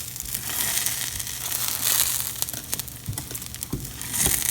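A moong dal pesarattu crepe crackles and sizzles on a hot pan as it is pressed down, a steady frying hiss broken by scattered sharp pops and scraping touches.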